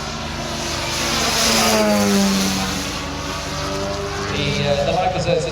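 A giant scale RC glider with a 6.5 kW electric outrunner motor flies past at a model air display, its engine hum swelling and fading at a moderate distance, with voices in the background.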